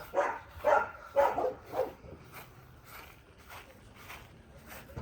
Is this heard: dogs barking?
yes